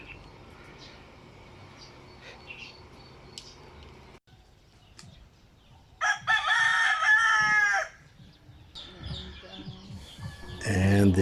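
A rooster crows loudly and nearby in the Philippines, one long cock-a-doodle-doo, followed by clucking fowl and a second crow starting at the end over a quiet background.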